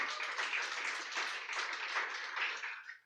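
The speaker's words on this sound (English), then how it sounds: "Let's give God a clap of him." A church congregation applauds together, a dense wash of many hands clapping close and steady for about three seconds before tapering off.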